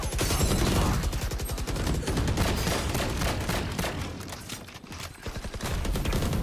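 Sustained gunfire in the tactical shooter Valorant, loud continuous rattling shots packed tightly together, with a short dip near the end before the firing picks up again.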